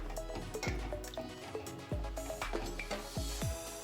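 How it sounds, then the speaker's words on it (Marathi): Water poured into a potato curry in a pan and stirred, giving wet, squelching slaps and drips in an uneven rhythm, close and fairly soft. "जेवढा रस्सा हवा आहे तेवढं पाणी घालून घ्यायचंय, मिक्स करून घ्यायचंय"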